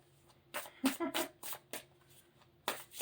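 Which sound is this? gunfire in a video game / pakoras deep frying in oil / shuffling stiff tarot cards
shuffling stiff tarot cards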